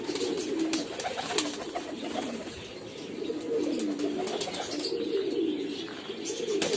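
Domestic native pigeons at a pigeon farm keeping both local and foreign breeds coo continuously in overlapping low, rolling calls, a dense flock chorus close by with faint chirps scattered through it.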